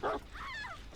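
A short burst of yelps from the Houndmaster's dog in Dead by Daylight, a clipped bark followed by a thin rising whine, close and clear with nobody speaking.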